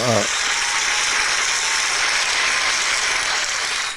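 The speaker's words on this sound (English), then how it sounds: "That's my applause button." A canned applause sound effect fires from a soundboard button, a bright, crackling burst of many hands clapping that sustains evenly before trailing off at the end, with a brief voice at the very start.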